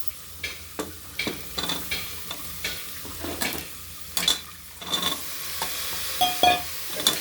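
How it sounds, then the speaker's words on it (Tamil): Onions and carrots sauté in a pan for vegetable biryani, a soft sizzle broken by repeated scraping stirs of a spoon against the pan, with a few sharper metallic clinks toward the end. "கேரட் போட்டோன்னே இதை நல்லா வதக்கணும்"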